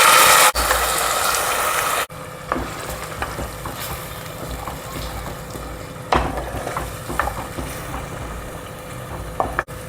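Onion and tomato paste fry in oil for a prawn curry, giving a steady soft sizzle with scattered stirring clicks and scrapes, louder briefly at the start before settling.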